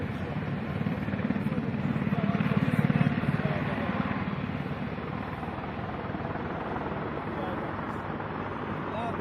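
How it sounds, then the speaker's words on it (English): A Mi-26 heavy helicopter's deep rotor thump and engine roar as it lands in a field, steady and fairly loud throughout, swelling slightly partway through, with wind buffeting the microphone. "We can now see this behemoth of a helicopter landing in the fields."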